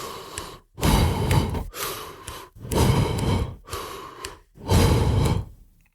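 Heavy breathing during double-under jump rope, one breath per four double unders: about five loud, rhythmic rasping exhales in quick succession, each broken by a brief pause, close and unaccompanied.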